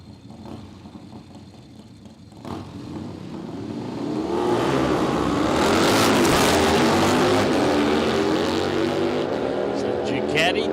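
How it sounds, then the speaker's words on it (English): Ducati and Harley motorcycles launch down a dragstrip, engines swelling from a low rumble to a loud, sustained roar that fills the second half, with an announcer talking throughout. "So Ducati takes on the Harley"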